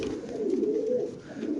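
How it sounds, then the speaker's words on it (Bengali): A female modern pigeon coos in a soft, low, rolling call, close by and fairly quiet, over light background noise. "এখানে আছে একটা মাদি কবুতর"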